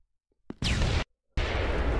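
Two loud blasts in a Halloween horror video game, each a sudden broad roaring burst lasting about half a second, separated by a brief silence.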